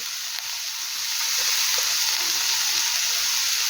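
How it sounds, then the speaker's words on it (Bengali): Vegetables with water spinach being stirred and mixed in a hot frying pan, producing a steady, loud sizzle with soft scraping, close up and without talk. "আবারও ভালো করে সব সবজিগুলোকে সুন্দর করে মিশিয়ে নেব"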